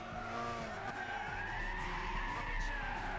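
A car brakes hard and skids on a rain-soaked track in Gran Turismo 6, a long continuous tire squeal over a loud engine drone, sustained and close with no talk.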